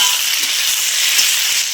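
Chopped tomato hitting hot oil with fried onion in a pan, cumin and bay leaf already in, giving a steady, dense sizzle and frying hiss that runs evenly throughout, close and fairly loud with no voices.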